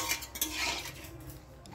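A utensil stirs a turmeric-yellowed curry in a pan, giving a short run of metallic scrapes and light clinks against the pan, close and fairly quiet, with no talking.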